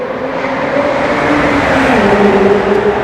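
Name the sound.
heavily turbocharged LT Spider sports car engine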